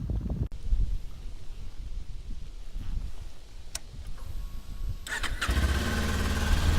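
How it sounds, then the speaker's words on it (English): A Kawasaki Ninja 400 motorcycle with its stock exhaust cranks and fires, a sharp starter burst giving way to a steady, close mid-pitched idle that holds to the end. "The Ninja 400 doesn't sound amazing."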